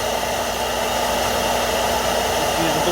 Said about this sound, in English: Just use a blow dryer.